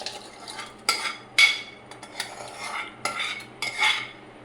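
Metal utensils clink and scrape against a pressure cooker as cooked food is spooned out into a dish, a series of uneven scraping strokes close by, with no talking.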